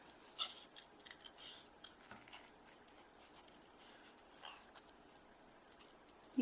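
Scissors snip through patterned paper while a small cat shape is cut out for a handmade card, giving a series of short, crisp, fairly quiet cuts at an uneven pace with no talking.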